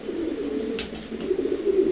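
A pair of racer pigeons coos in a low, steady, rolling murmur, close and fairly soft, with no voices over it.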